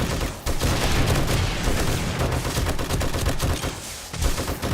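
Continuous rapid automatic turret gunfire in 7 Days to Die, dense overlapping bursts filling the whole stretch at steady loudness, with a brief dip early on.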